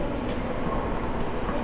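Subway train at a station in Korea, a steady loud rumble of rail cars running without pause, with faint talk mixed in.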